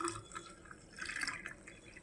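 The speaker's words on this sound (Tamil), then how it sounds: "ஒரு கிளாஸ் தண்ணி ஊற்றியாச்சு." Water poured into a glass for a drink, heard as a near, trickling pour with soft splashes and drips across about two seconds, faint and alone with no talk.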